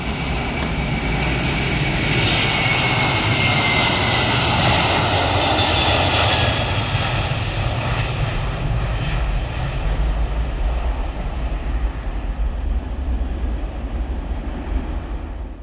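An airplane lands at Kochi airport with a loud, continuous engine roar that swells and then holds steady, dominating the scene with no talk.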